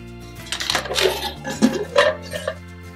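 Pieces of a Fire-Maple Island steamer camping cookware kit clatter and clink together as they are handled and unpacked, several close metallic knocks and light rattles in quick succession.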